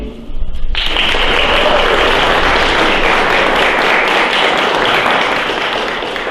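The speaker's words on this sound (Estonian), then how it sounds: "Teeme suure aplausi." Audience at a Järvamaa culture award ceremony bursts into loud applause after a brief moment of quiet, sustained dense clapping filling the hall and continuing steadily to the end.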